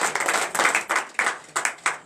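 A church congregation at morning prayer claps in rhythmic bursts, about seven sharp swells of hand claps in quick succession, close and fairly loud.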